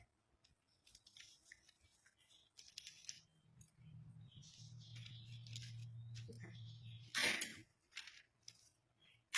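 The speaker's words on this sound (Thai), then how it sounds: "เราจะมาตัดแยกนะคะ" Scissors snip through paper while a sewing pattern is cut apart on a tabletop, a series of quiet close crisp cuts with one sharper burst near the end, with a low steady hum underneath.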